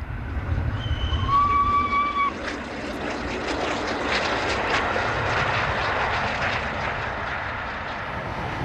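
Steam locomotive 60163 Tornado runs with a broad, roaring rumble. A few sustained whistle-like tones sound early on, then steady mechanical noise carries on at an even level.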